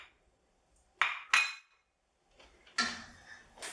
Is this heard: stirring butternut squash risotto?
yes